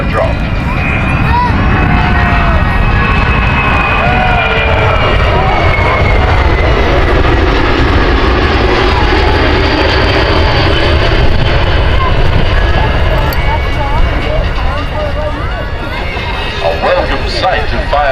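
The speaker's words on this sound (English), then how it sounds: "pilot in command, Captain Kevin Hoff, DC-10, fire drop" A DC-10 airliner makes a fire-drop pass at an air show, its jet engines a loud, continuous roar lasting throughout, with a public-address voice speaking over it.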